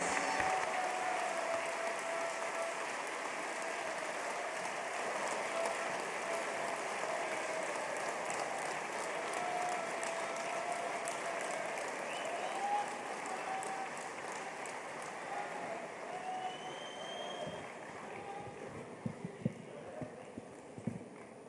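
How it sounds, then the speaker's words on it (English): A large audience gives Prime Minister Narendra Modi a thunderous, sustained round of applause for his inaugural address at the 8th Vibrant Gujarat Global Summit in Gandhinagar. The dense clapping rolls on steadily for about twenty seconds, with a few sharper claps near the end. "with a thunderous round of applause for his inaugural address"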